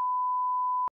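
A single electronic beep, a steady pure tone held for nearly a second and then cut off with a faint click, loud and alone.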